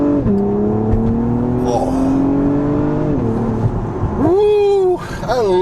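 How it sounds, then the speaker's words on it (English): A 2024 Acura TLX V6 sports sedan revs hard and accelerates, its engine note rising and falling in loud sweeping harmonics close by, with a brief exclamation from a person over it. "One of the best sounding V6s in its class, I say."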